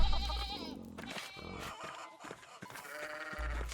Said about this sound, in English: The sheep? That one sheep. Well, that's a ram.